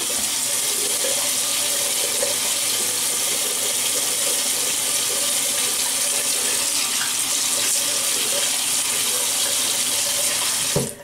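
Bathroom tap water running steadily into a sink for wetting the face before a shave, a loud continuous hissing rush that stops abruptly at the end, with no talk.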